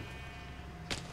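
A single short sheep bleat from the game Minecraft sounds near the end, brief and moderately loud over a low steady background hum.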